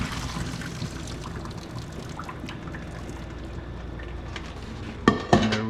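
Hot liquid pours out of a cooking pot in a steady trickle, and a couple of sharp metallic clanks of the pot come near the end.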